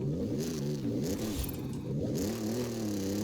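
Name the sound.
GMC Syclone engine revving, from video game Forza Horizon 5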